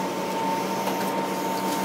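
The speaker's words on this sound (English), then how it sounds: "Whatever that is, aircon." An air conditioning unit runs with a steady, even hum and hiss and a constant tone, close and unbroken, with no talking.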